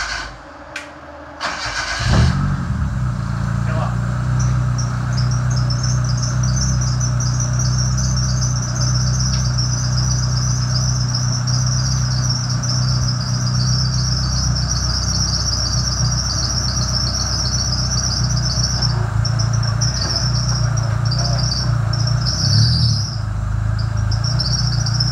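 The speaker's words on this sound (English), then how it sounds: "Fuel pump." A buggy's fuel pump runs after a short click at the start, a steady close droning whir with a constant high whine above it that carries on unchanged for the rest of the stretch.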